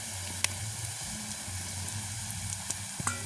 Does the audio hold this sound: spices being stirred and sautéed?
yes